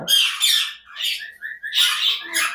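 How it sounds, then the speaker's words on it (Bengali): A galah cockatoo squawks in a series of loud, harsh, close calls, four or five rasping bursts separated by short pauses, with no other sound between them. "এইখানে আছে একটা গালা কাকাতুয়া, কত সুন্দর কালার"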